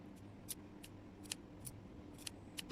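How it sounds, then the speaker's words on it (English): Scissors snip the curved edge of a fabric patch pocket with a flap, six or seven faint, crisp cuts spaced irregularly and heard close up in a quiet room. "I'm going to do another snipping on this area."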